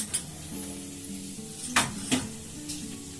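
A dried red chili and a spoonful of nigella seeds tempering in hot oil, a low sizzle with a few sharp utensil clinks and scrapes against the pan.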